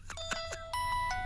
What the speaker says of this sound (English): House of Cards ringtone.